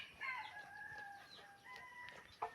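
A bantam rooster crows faintly at a distance, one long wavering call followed by a shorter second crow, thin and high against a quiet outdoor background.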